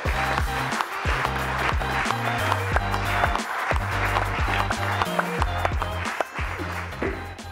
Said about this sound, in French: Je vous demande d'accueillir avec vos applaudissements Didier Herriot, son président.